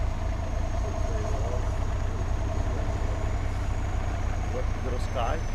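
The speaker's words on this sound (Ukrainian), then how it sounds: "Трактор оре на чеснок." A T-150 crawler tractor ploughing a field for garlic, its engine a steady low drone heard at a distance, with people talking nearby over it.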